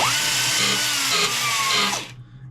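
A belt grinder dabs at lead filler on a corner of a 100-year-old steel fuel tank, giving a loud, steady abrasive whine for about two seconds that then cuts off and winds down.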